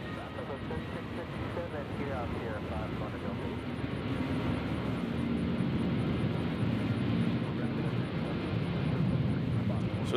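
A Southwest airliner roars down runway 2 left on its takeoff roll at Nashville International Airport. The jet noise is broad and steady, builds gradually over about ten seconds and sounds moderately distant.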